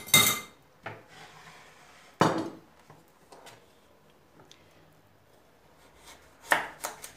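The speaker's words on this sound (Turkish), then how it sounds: "diğer sebzeleri doğramaya geçiyorum." A knife chops vegetables on a cutting board in a kitchen, with a few sharp, sparse knocks separated by quiet gaps and softer small clicks in between.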